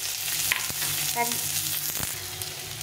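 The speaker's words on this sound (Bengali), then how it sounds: "এই পেঁয়াজটাকে একটু ভেজে নেব।" Sliced onion fries in hot oil in a pan, giving a continuous close sizzle with a couple of brief stirring scrapes and clinks, no voices.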